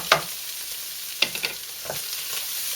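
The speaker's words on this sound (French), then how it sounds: "on va faire bronzer les riz. frire les riz." Rice frying in a pan ahead of added water, a steady broadband sizzle with a few sharper scraping knocks from stirring near the start and middle.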